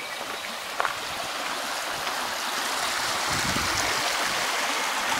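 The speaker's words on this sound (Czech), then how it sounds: "Marikovský potok." The Marikovský brook flows beneath a small footbridge, a steady, close rushing and gurgling of water that continues evenly throughout without voices.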